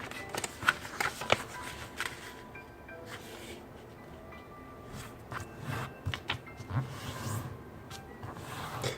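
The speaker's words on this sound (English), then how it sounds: "And then repeat the same fold for the other side." Paper is folded and creased by hand while making a paper airplane, producing soft crinkles, rustles and brisk sliding swipes in irregular bursts, close and fairly quiet, with no voices.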